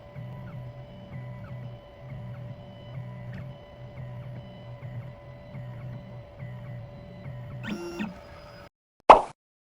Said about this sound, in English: The machine is decoding the key.